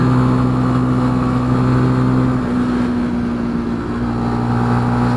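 A Benelli TNT 135 motorcycle engine drones steadily while riding through dense morning fog, a loud, constant mid-pitched hum with a slight dip in revs partway through and no other sounds.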